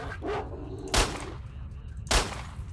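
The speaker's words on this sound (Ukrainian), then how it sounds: "Я чую, що собака якась гавкає" A dog barks twice in the video game S.T.A.L.K.E.R.: Shadow of Chernobyl, two sharp, loud bursts about a second apart over a constant low rumble of game ambience.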